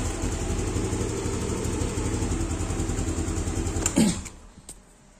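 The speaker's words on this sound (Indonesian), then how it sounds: "kalau saya dengerin area tangkinya itu ada bunyi aneh dari fuel pumpnya" A motorcycle idles steadily with a thin, high whine from a faulty fuel pump running over the engine drone, until the engine suddenly cuts out just before the end.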